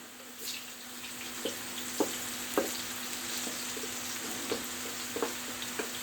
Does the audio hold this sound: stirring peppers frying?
yes